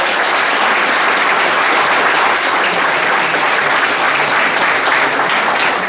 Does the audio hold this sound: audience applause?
yes